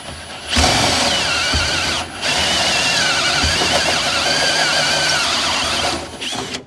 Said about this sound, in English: I have 2 favorite kinds of drill bits: a new drill bit and a uni drill bit